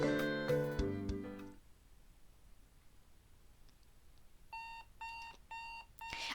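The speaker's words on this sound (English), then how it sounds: "I wake up to the sound of my alarm clock beeping." Alarm clock beeping in the Doki Doki Literature Club video game: after a loud musical passage fades to near silence, four short evenly spaced electronic beeps ring out clearly, alone, with no talking.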